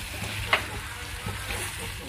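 Chicken manchurian sautéed in a pan gives a soft, steady sizzle with one sharp utensil clink near the start, close and moderately quiet.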